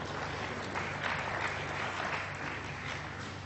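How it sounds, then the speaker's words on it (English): A crowd gives a round of applause for a volunteer called up on stage, steady and dense clapping heard throughout at an even level. "Give her a round of applause."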